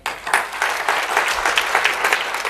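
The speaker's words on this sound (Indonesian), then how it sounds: "Beri tepuk tangan." A church congregation applauds during a sermon, a burst of lively, close clapping that starts abruptly and stays energetic with uneven peaks.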